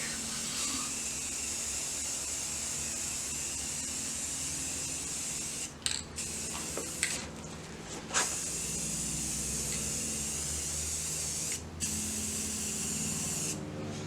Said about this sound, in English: Spray them down.